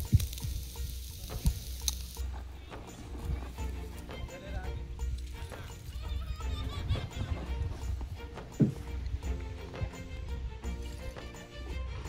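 Tandoori chicken cooks slowly over charcoal beside a river, giving a steady, close sizzle and fry crackle, with occasional clinks and background voices and activity under it.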